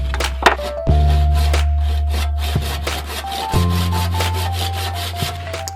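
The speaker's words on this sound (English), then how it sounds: "then sand it nice and straight." An antler piece for a Puukko knife handle being sanded straight, a continuous rasping scrape over a steady humming machine tone, with a few sharp knocks along the way.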